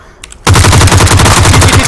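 Video game gunfire in a battle royale match bursts in after a short quiet lead-in, a loud rapid automatic volley of evenly spaced shots that keeps going to the end.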